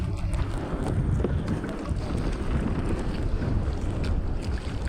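Strong wind and heavy sea waves rush steadily around a small boat whose engine has stalled and filled with water; a continuous loud, rough roar with gusts buffeting the microphone, and no voices.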